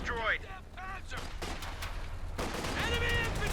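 A .50 cal machine gun firing in the Company of Heroes 2 strategy video game, steady battle din with rapid fire under a male caster's commentary, fairly distant within the mix.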